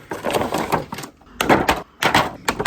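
McFarlane DC Multiverse Nightwing action figure packaging being opened, with loud close bursts of crinkling plastic and cardboard tearing in three rough bouts separated by short pauses.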